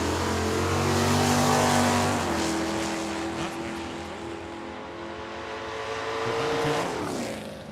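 A 1967 Ford Mustang notchback drag car revs and accelerates hard down a drag strip, a loud, sustained engine roar with rising and shifting pitch, close by and steady throughout with no talk.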